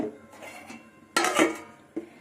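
Metal cookware clanks a few times: a lid set on a pot with a bright clatter, then a shorter clink moments later, close by.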